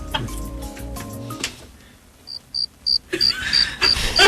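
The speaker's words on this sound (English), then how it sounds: "Crickets." Cricket chirps used as a comic sound effect come in after a brief lull: a steady run of bright, evenly spaced pulses that repeat clearly and fairly loudly to the end.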